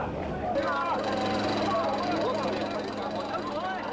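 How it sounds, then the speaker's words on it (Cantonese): Rescue helicopter circling overhead above a hillside crash site where a double-decker bus went down an embankment, a steady continuous rotor and engine drone under constant nearby talk. "飛行服務隊嘅直升機亦一直喺上空盤旋協助搜救"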